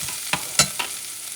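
Minced garlic stirred around a hot pan, a soft sizzle beneath three quick scraping strokes of the utensil, close and brief with no voices.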